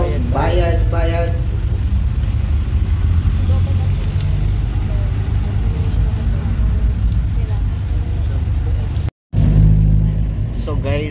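A jeepney engine runs steadily while driving on a road trip in Tanza, Cavite, with a loud continuous low rumble and road noise throughout, a brief dropout near the end, and people talking and calling out fares over it at the start.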